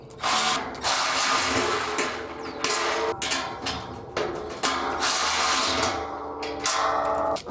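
A power drill drives screws into a barrel being built into a smoker, with repeated bursts of whirring and ratcheting grind, each run lasting about a second, close and loud.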